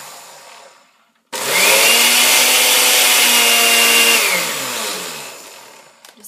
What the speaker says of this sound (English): this is a really old blender